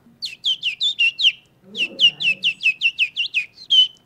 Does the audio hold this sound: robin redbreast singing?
yes